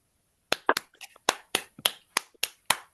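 A small group claps in thanks for a guest speaker at a women's club campaign event. The claps are sparse and distinct and come in uneven bursts after a brief silence, close and fairly light.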